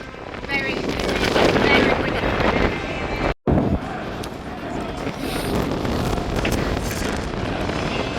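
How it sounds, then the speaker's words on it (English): Strong wind at a football ground in the Scottish Highlands roars and buffets the microphone almost continuously, with a brief dropout partway through before the gusting rumble resumes. "How windy is it? Very windy."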